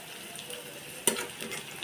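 Onion and shrimp frying in a pan for a taro-leaf dish: a soft, steady sizzle, with one sharp clink of a utensil midway and stirring noises after it.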